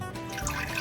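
A bidet nozzle squirts water at low pressure: a short, steady, soft hiss of spraying water lasting under a second.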